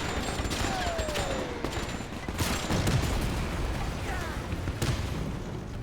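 Pack howitzer artillery fire and battle noise in Men of War II: repeated sharp booming blasts over a dense rumbling din of combat, with a few whistling tones, loud and close throughout.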